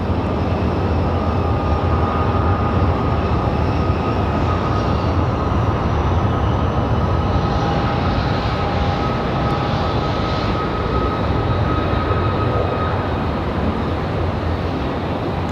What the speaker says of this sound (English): As that Southwest Max makes its way out